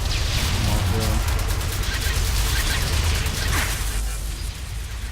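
Mortar fire in the video game Section 8 Prejudice booms amid a dense, loud battle din of continuous gunfire and blasts, with a player talking over the chaos.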